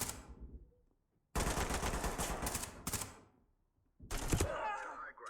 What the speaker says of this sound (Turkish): Oradan sıkıyor biri